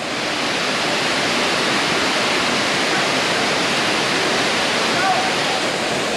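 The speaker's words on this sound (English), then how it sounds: "అన్నిట్లో గల best water falls south ఇండియాలో" Dudhsagar waterfalls in Goa pour down with a loud, steady, broadband roar of rushing water that never lets up and fills the whole scene.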